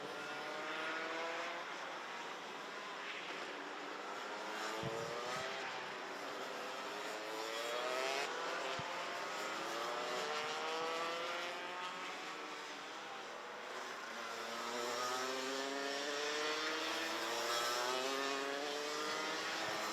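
Junior race karts at a race meeting drone past in a continuous high-pitched engine whine, the pitch rising and falling as they circle the track at a distance with no break in the noise.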